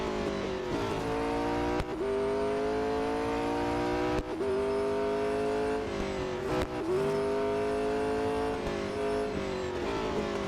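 Big, chunky cars race in the mobile game Real Racing 3 during an autocross event in Melbourne, with a loud, continuous engine drone that rises and falls as the cars shift gears and accelerate.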